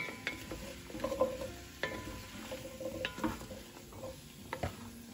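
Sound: onions, carrots, garlic and ginger sautéing in oil

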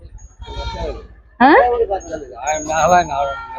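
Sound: goats bleating

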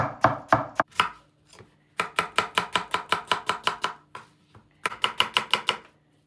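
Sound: knife chopping onions

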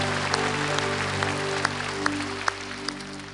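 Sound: church congregation applause

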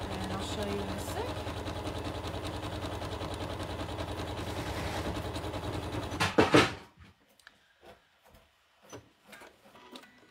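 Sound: sewing machine zigzag stitching a jelly roll rug

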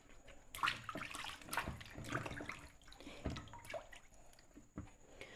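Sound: washing meat in water

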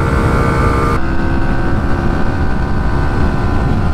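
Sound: Hero Xtreme 125 and Pulsar NS 125 motorcycles drag racing

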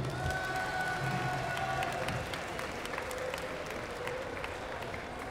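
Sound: audience applauding Alexis at Japan Expo

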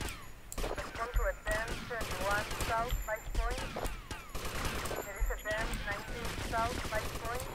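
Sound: gunfire in the video game GTA Vice City

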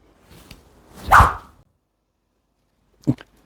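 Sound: golf practice tool swung fast, swoosh at downswing

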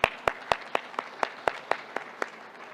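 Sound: audience applause

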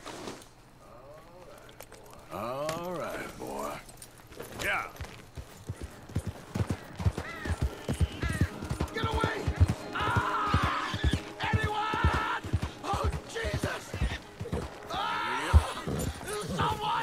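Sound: horse galloping in a video game

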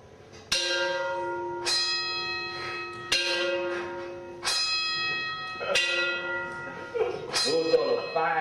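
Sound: plantation bells ringing at 5 a.m

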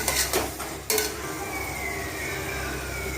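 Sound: sautéing ginger garlic paste in pan

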